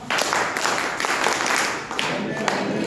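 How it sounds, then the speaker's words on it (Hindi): Audience applause at a scout pledge gathering, dense steady clapping from a crowd filling the whole stretch, fairly loud and even, with a voice briefly audible in the background. "ताली बजा।"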